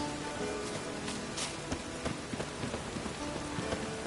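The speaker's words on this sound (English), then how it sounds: "Looks like rain." Steady rain pours down in the video game The Witcher 3, a dense continuous hiss with scattered droplet ticks throughout.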